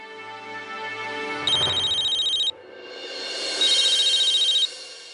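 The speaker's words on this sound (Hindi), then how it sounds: "र्जुन, एक बहुत जरूरी इन्फॉर्मेशन देने के लिए मैं तुम्हें फोन कर रहा हूँ।" A telephone rings in a Hindi TV drama scene: two loud, buzzing electronic ring bursts about a second long, close and clear, with soft background music before them.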